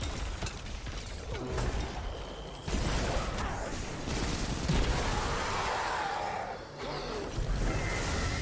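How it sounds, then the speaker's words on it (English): Spaceships fire on the player in Destiny 2, mechanical clattering weapon bursts and whooshes running steadily at moderate volume, with almost no talk over them. "Doesn't help that the ships are also shooting at you."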